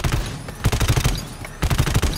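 Gunfire in the video game GTFO: loud, dense bursts of rapid automatic shots, one barrage followed by a short lull and then another sustained volley.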